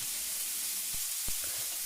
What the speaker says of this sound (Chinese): 牛仔骨煎至金黄，